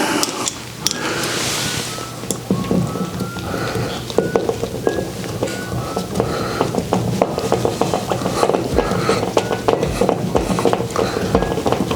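A hand screwdriver turns screws into a light fixture in a close, steady run of small ratcheting, rubbing and scraping clicks that continue throughout.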